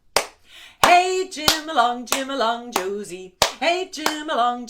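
Sharp hand claps land on the beat while a voice sings over them, the claps crisp and close.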